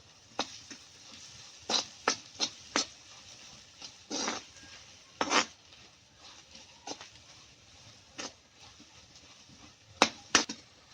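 Stirring spices into a pan of green tomato curry, with scattered scrapes and taps of a spoon against the pan over a faint background hiss, and no talk.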